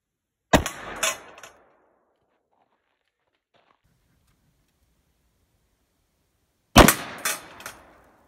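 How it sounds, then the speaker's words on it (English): A golf ball fired from an X product launcher: two loud, sharp multi-crack bursts about six seconds apart, with near silence between them. "today we're gonna see exactly how fast these golf balls are going out of that X product launcher"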